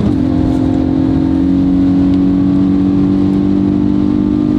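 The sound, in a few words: Hyundai i20N accelerating on the Autobahn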